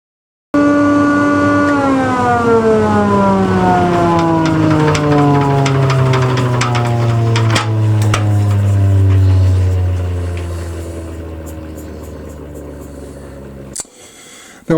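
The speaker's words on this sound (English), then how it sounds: "I'm using my homemade bowl sander, or actually two of them." A homemade bowl sander works the surface of a cylinder mower roller, a loud steady motorized whine whose pitch slowly falls as it runs before fading out near the end.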